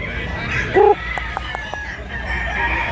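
A rooster lets out a short, sharp call amid outdoor background noise, fairly close and loud, followed by fainter ticking sounds.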